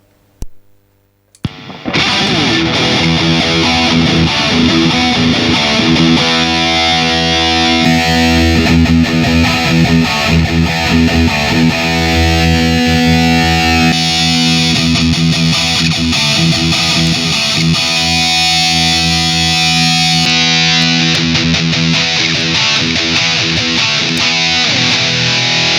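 Heavily distorted electric guitar played through an Engl amp model on a LIVTRA VELRIX budget NAM and IR loader pedal, with the cabinet switched midway from an Engl to a PB cab IR; loud, sustained riffing with no talk.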